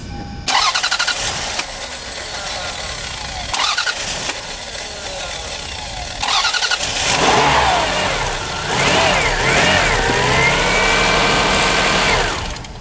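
A 2002 Lexus RX300 with a faulty idle air control valve cranks and starts, then revs and settles into a mid-pitched idle, loud and close, with no voices.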